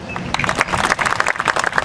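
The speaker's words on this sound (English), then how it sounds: "let's give them one more time a round of applause" An audience at the 2018 Doraville State of the City address applauds city councilmembers, a brief burst of dense, crackling hand clapping close to the microphone.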